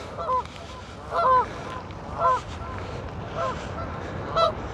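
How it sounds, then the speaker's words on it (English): Geese honk in loud separated bursts, about five calls spread over a few seconds, with a few ducks nearby, at an abandoned riverside wall of old mooring posts in Runcorn, over steady outdoor background noise. "the geese seem to be giving us away"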